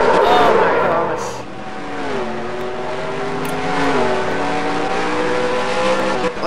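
A stock car in a racing video game roars with a sustained engine whine that shifts pitch as it revs and skids, while a player talks over it.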